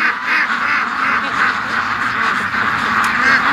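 Ducks quack loudly and continuously at close range, a dense overlapping chorus of calls with no pauses.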